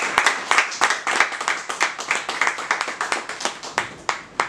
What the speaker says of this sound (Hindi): एक बार जोरदार ताली बिजनेस बॉलीवुड के लिए।